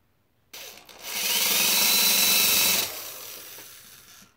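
A power drill bores into an HDPE robot chassis frame, kicking in abruptly, whining loud and steady for a couple of seconds, then easing off and winding down.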